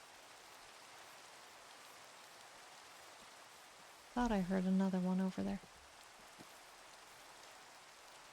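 Steady in-game Minecraft rain hisses evenly throughout, with someone talking briefly over it partway through.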